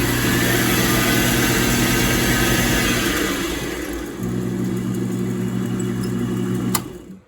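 A homemade milling machine converted from a Harbor Freight Central Machinery 46199 3-in-1 mill/lathe, driven by a treadmill motor with fine and coarse speed control, runs with a steady loud motor whine and hum that shifts pitch partway through and ends with a sharp click.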